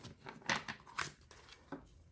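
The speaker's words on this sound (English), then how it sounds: "I can't shuffle like that." Angel oracle cards being shuffled by hand, giving a few quick papery riffles and soft slaps at an uneven rhythm, close and fairly quiet.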